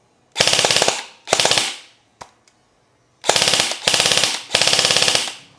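Airsoft gun firing full auto from a mid-cap PMAG magazine: five loud, close rapid-fire bursts, with two small clicks in the gap between them.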